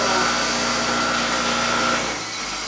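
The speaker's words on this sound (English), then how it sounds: "Bench grinder." A bench grinder runs with a steady, close, loud motor whine and hum, holding constant for about two seconds before the pitch sags and it begins winding down.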